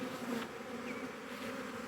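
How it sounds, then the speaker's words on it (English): A swarm of honeybees moves toward a hive box, giving a soft, continuous buzzing hum with faint individual wingbeats passing close by, steady throughout with no talking. "You can see all the bees starting to march towards the box."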